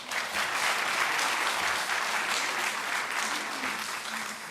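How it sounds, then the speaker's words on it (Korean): A party rally audience at a regional members' convention breaks into loud, sustained applause, dense clapping filling the whole stretch and easing off slightly toward the end. "여기 동의하면 박수 한번 주십시오."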